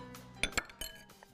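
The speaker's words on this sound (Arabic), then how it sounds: "نقلب بقى الخليط الحلو ده" A spoon stirs a sweet dough mixture for plain and date-filled qaraqish in a bowl, giving a few quiet, close clinks against the side amid soft scraping.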